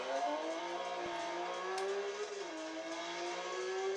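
Racing car engines in the mobile game Real Racing 3 played on an Android tablet, a continuous whining engine drone with smooth pitch shifts, steady and fairly loud without talk.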